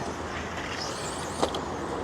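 An RC car at the Eastbourne RC racing track buzzes past with a high, shifting motor whine over steady outdoor background noise, with a brief louder burst partway through.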